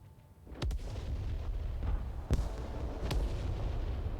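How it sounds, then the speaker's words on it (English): Artillery fire in the military video game Broken Arrow, three sharp distant booms spaced over a few seconds, each rolling out over a constant rumbling battlefield background with no voices. "Enemy artillery are making moves here."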